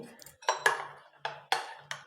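A steel mixer jar is rinsed and handled, making a series of sharp clinks and knocks with soft watery thuds between them, close and fairly quiet.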